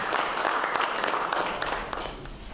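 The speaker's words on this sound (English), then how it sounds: "please give an applause for Trevor Smith" Audience applause for a guest speaker at a Northwest Steelheaders club meeting, a dense steady wash of clapping from a crowd that holds through and tapers slightly at the end.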